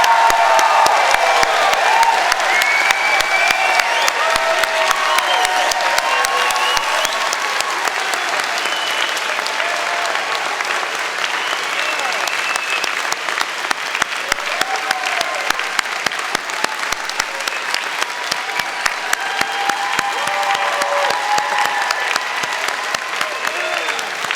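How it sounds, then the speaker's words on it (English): Sustained applause with cheering and whoops from a large convocation crowd for the graduating class of 2016, a dense even wash of clapping that holds steady at full strength for over twenty seconds. "please join me in a round of applause acknowledging our graduating class of 2016"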